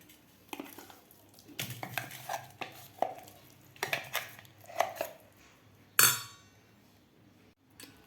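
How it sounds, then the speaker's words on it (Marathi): Coarsely ground moong dal is scraped out of a mixer jar into a bowl, giving irregular spoon clinks and knocks against metal and glass, with one sharper clatter near the end, all fairly quiet with no talk. "आता आपल्याला हे एका बाउलमध्ये काढून घ्यायचं आहे"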